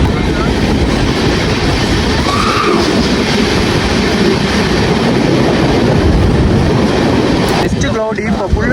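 A passenger train on a long-distance trip from Coimbatore toward Rajasthan runs along the railway near Mumbai, its loud, close, continuous rumble and rattle filling the whole stretch, with voices heard inside and a sharper clatter near the end.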